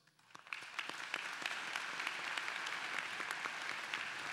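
Audience applause at a 2023 high school graduation ceremony, a steady wash of many hands clapping that swells in over the first half second and holds evenly, moderately distant, with no talk over it.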